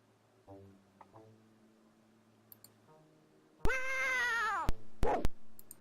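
A loud, harsh, synthetic cat meow from the Tex Murphy: Martian Memorandum video game, with a long wailing call and then two shorter bursts, after quieter game clicks and tones.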